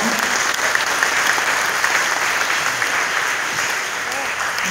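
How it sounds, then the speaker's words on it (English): Audience clapping for an elementary school principal at a fifth-grade graduation ceremony, a loud, sustained wall of applause from a large crowd, even and continuous throughout, with faint voices mixed in. "Let's give her a round of applause as well"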